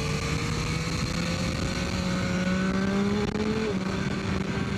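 A 2023 Yamaha MT-09 motorcycle engine pulls hard under acceleration, a loud steady drone with rising tones, a brief dip near the end as a gear changes, then the climb resumes, heard close on the move with no talk.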